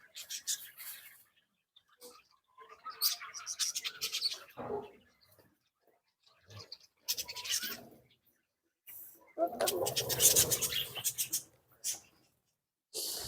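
Lovebirds and chicks at a village bird farm chirp in short, bright bursts that come and go between stretches of near silence, close by and mixed with some voices.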